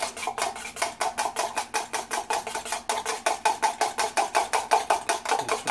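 Rapid rhythmic whisking of egg yolks with a splash of simmered water in a bowl for eggs Benedict, the whisk clicking steadily against the bowl in a fast, even beat, close and unbroken.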